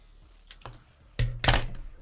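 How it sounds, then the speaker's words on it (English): Plastic packaging around a black saddle-style wallet strap being cut open by hand, heard as a few sharp clicks and snips, then two louder crinkling bursts of plastic, close and otherwise quiet. "Let's go ahead and cut this open."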